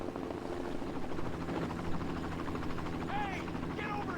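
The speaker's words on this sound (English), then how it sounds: "then they hear the chopper" Helicopter in a Resident Evil 2 cutscene on the Nintendo 64, a steady rotor chop pulsing at mid volume beneath scored sound and short chirping effects.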